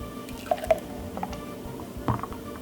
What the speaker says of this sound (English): And pour it in this glass.